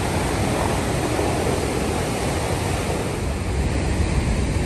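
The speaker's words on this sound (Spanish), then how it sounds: "Llegamos donde está la cascada de agua." Niagara Falls in New York roars as a dense, steady broadband wash of heavy falling water, loud and unbroken throughout with no voices.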